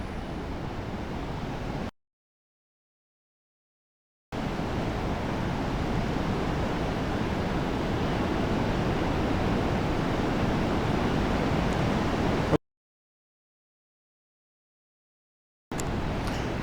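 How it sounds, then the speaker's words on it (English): January surf rolls onto rocks near Cape Foulweather in a steady, dense wash of breaking waves, loud and continuous, interrupted by two stretches of dead silence. "it's always pretty there, the surf rolling up to Cape Foulweather"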